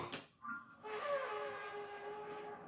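A long, steady foghorn blast in the video game The Legend of Zelda: Tears of the Kingdom, with a rich harmonic tone after a brief burst of noise, holding for about two seconds with no talking.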